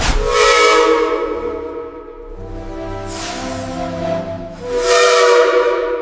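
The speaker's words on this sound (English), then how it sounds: "As steam rushes into the cylinders and the pistons move, the wheels begin to turn for the first time in 50 years." A 1969 E2 class narrow gauge steam locomotive coming to life, with loud, close bursts of rushing steam and hiss swelling three times over a sustained whistling tone.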